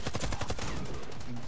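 Rapid automatic gunfire from Warface, a dense burst of loud, close shots with no talk over it.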